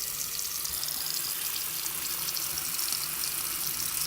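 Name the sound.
rinsing makeup brushes under running water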